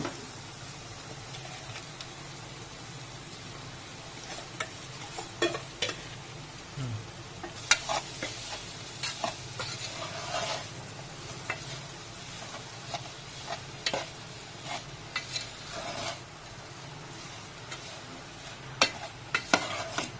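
Potatoes stirred and fried in a pan with turmeric and salt for aloo samosa filling, a steady close sizzle broken by frequent scraping and clattering strokes of the spoon, with no talking.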